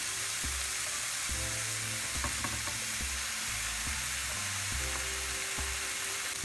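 Red pepper paste sizzling and frying in a pan for a Turkish layered dish, a steady loud sizzle with intermittent scraping and stirring knocks, close and continuous, no talk.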